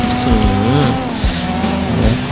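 A 1992 Blista Compact at full throttle, sliding across a bridge, its engine revving hard with sweeping pitch changes and tires squealing in short bursts, loud and close.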